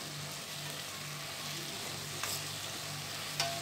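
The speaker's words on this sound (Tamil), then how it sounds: "இப்போ நல்லா வதங்கியாச்சு." Vegetables for a vegetable biryani sauté in a pan, with a soft, continuous sizzle and stirring, plus two brief sharp clinks of a utensil near the end; no voices.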